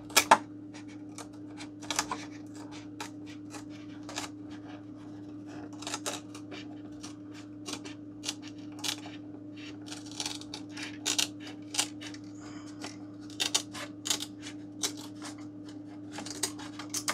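Repeated sharp snips of Lexan scissors cutting through thin plywood, irregular clicks and crunches close up, over a steady low electrical hum.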